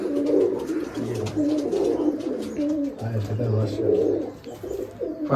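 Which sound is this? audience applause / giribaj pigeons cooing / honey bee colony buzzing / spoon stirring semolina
giribaj pigeons cooing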